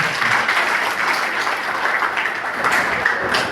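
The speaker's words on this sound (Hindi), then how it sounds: "उनके लिए आप जोरदार तालियां दें।" Loud, sustained applause from an audience at a health awareness event, dense steady clapping that continues without a break.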